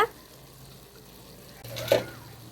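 Mutton keema being stirred with masala and grated coconut in a pan: a soft sizzle with a spoon scraping and mixing, rising to a brief louder stir near the end over a low hum.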